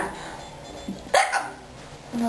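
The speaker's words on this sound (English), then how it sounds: "No, it's called hiccups." Several sharp hiccups from a person during a hiccup attack, sudden and close, with short gaps between them and no talk over them.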